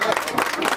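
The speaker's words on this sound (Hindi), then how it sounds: "एक बार जोरदार तालियों से" Applause from an audience at a free medical camp in a village near Ramnagar, Jim Corbett Park, a dense, steady burst of clapping lasting under a second, fairly loud and close.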